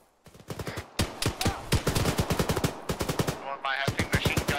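Arma 3 gunfire, mostly machine-gun fire, crackles in rapid, loud bursts up close, keeping a nearly continuous rattle with only brief pauses between volleys.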